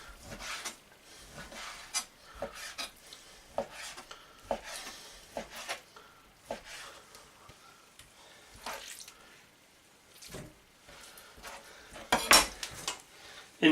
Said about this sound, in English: butterfly it open and cut it into strips